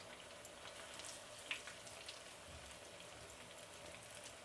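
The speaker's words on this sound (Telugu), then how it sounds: "ఇప్పుడు అన్నీ ఒకే పరి డీప్ ఫ్రై చేసుకుందామండి" Vadas deep fry in hot oil, giving a faint, steady crackling sizzle with a few soft pops and no one talking.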